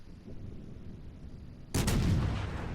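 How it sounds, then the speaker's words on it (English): A warship's main guns fire a single loud, booming shot in a naval combat video game, sudden and close after a quiet stretch of ambient hum, with a rumbling tail. "we're gonna take another shot at this Mjolnir because he's still giving us what would be flat broadside"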